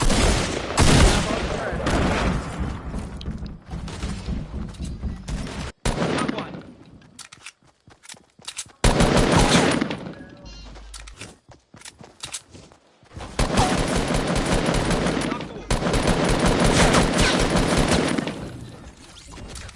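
Bursts of automatic and rapid gunfire from the Fortnite video game, loud volleys broken by short pauses, with players chatting in Jamaican voices over the shooting.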